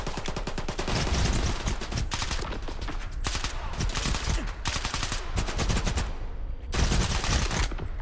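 Automatic gunfire rattles in STALKER GAMMA, long loud bursts of rapid shots with short gaps between volleys, continuing almost without pause and close up.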